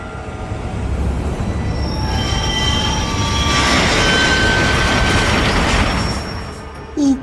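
A train rolls past in the game Adam Wolfe, loud and near, with a continuous roar and squealing wheels that swell to a peak and then fade away.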